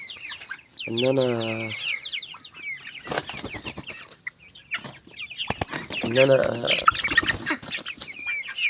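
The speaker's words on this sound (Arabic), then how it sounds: "انا بحط النهارده الاكل للطيور" Domestic poultry cluck and squawk nearby while being fed a mix of feed, grains and vegetables, with scattered calls and bursts of wing flapping, under intermittent talk in Arabic.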